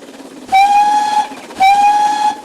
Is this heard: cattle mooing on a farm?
no